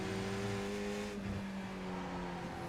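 A Mazda MX-5, Skip Barber or Spec Racer in the iRacing game at Okayama circuit revs hard at full throttle after a second-gear corner, a steady loud engine drone with rising harmonics and no talk.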